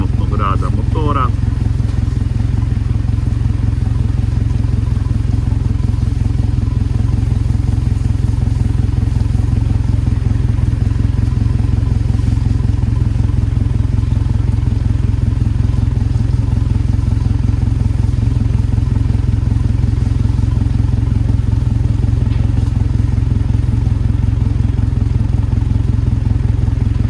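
A Suzuki DF 200 outboard boat engine idles steadily through a diagnostic test, a constant loud low drone that never lets up, with a brief clatter near the start and a voice talking over it.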